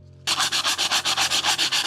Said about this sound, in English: sanding it will completely flatten things out